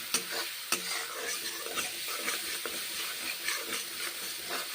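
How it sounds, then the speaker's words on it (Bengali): Onion and spices fry in a pan, a constant hissing sizzle broken by scraping stirs and occasional sharp knocks of a spoon on the pan, steady and close, with no speech. "পেঁয়াজের কাঁচা গন্ধ থাকবে না ততক্ষণ মশলা কষে নিচ্ছি"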